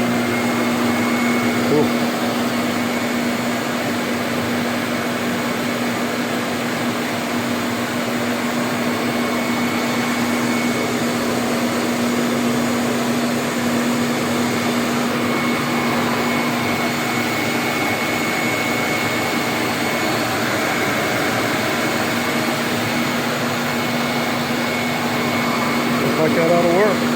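A shop vacuum switched on through a Craftsman bandsaw's switch, on a treadmill-motor conversion, runs with a loud steady roaring whine for nearly half a minute, close by, with someone speaking briefly over it.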